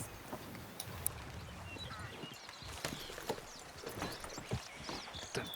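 Horse hooves clip-clopping in a video game, an irregular run of soft, distinct hoofbeats over a faint ambient bed, with no talking during them.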